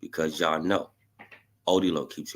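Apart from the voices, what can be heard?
No everyday noise stands out behind the speech.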